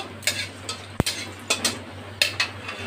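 Panch phoron and whole green and dried chillies stirred in hot oil, giving faint soft scrapes and light clinks spaced through the moment, with one sharp tap of a utensil against the pan near the middle.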